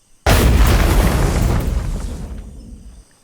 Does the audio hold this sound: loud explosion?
yes